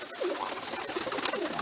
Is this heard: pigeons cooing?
yes